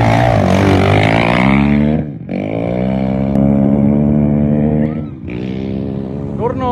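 Racing quad ATV engines at the start of the Cabo 250 off-road race, a loud close droning roar that holds steady, dips twice and picks back up as the machines rev and pull away.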